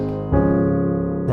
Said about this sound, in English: If we would have a perfect cadence, it would sound like this.